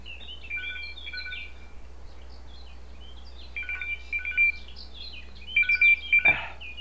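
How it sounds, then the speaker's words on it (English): A phone ringer sounds in bursts of bright electronic chirping tones, first faint and then louder toward the end, over a steady low hum with no talking. "I meant to turn my ringer off on my phone"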